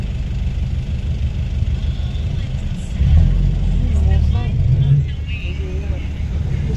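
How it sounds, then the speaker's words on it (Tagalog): Heavy road traffic near Mahogany Market rumbles with engines idling and vehicles crawling past up close, a deep low drone swelling midway, with voices heard faintly in the mix. "Grabe ang traffic."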